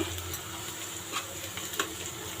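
Onions and raw mango pieces frying in a pan for a spicy boondi mango curry, giving a soft, steady sizzle broken by occasional stirring scrapes close by.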